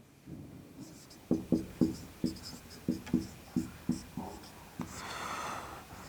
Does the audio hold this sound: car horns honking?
no